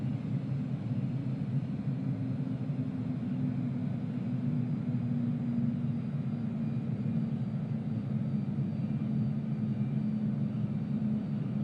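A steady, unbroken roar from the jet engines of a KLM Dreamliner during landing in Microsoft Flight Simulator 2020, holding an even low hum throughout with no voices.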